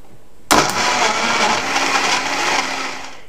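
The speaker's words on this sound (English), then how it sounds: "Now I'm going to blend the frozen strawberries and the blueberry yogurt." A kitchen blender starts abruptly and runs steadily, whirring loud and close as it blends frozen strawberries with blueberry yogurt, with no talk over it.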